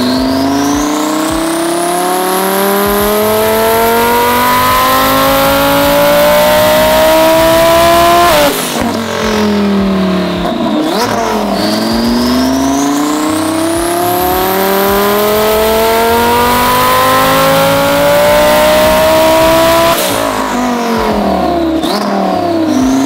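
A high-horsepower car engine, built to about 4300 hp and running a freshly uploaded tune, revs hard under power in long rising sweeps, loud and close, with two sharp lifts around eight and twenty seconds before climbing again.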